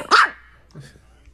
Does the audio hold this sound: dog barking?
yes